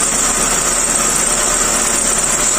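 A Hyundai Atoz automatic's engine running with cooking oil mixed into its engine oil, a steady, close idle hum with no breaks and no talk.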